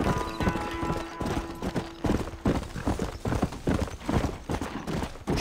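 Horse hooves clip-clop rhythmically and loudly at close range in the PC game Red Dead Redemption, with a brief sustained tone early on and no speech.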